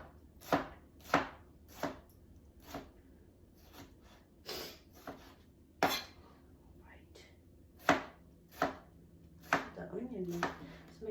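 A knife chops an onion on a slipping cutting board in a home kitchen, making about a dozen sharp, close thuds at an uneven pace while a person talks softly between strokes.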